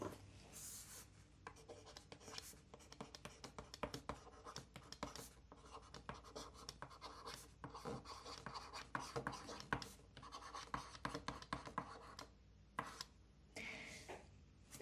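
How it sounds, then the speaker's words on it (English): Pen scratching across paper while working out A-level maths solutions, a faint, close stream of quick irregular strokes and taps with short pauses, no speech heard. "Let me write that out again here."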